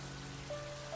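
Rain falls steadily outdoors, a soft, even hiss of drops on surfaces throughout the brief moment, faint and without voices.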